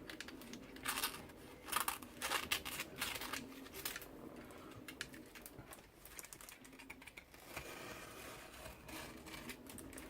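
A snap-off blade knife slices through excess tissue paper in an art journal, giving a series of close, sharp scratchy cuts and crisp rustles that come in quick bursts.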